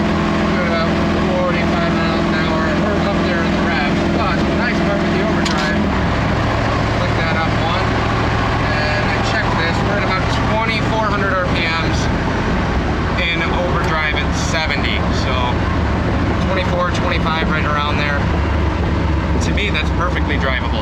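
A 1964 Ford F100 pickup cruises in third gear at about 45 miles an hour, its engine holding a steady high-revving drone with road noise, while someone talks over it.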